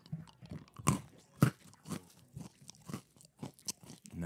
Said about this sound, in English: Now that's a good crunch.